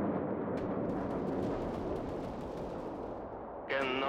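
Soviet cannon fire in the World War Armies video game: a dense, continuous roar of rapid gunfire and booms with sharp repeated reports, loud and sustained throughout, ending with a brief electronic tone.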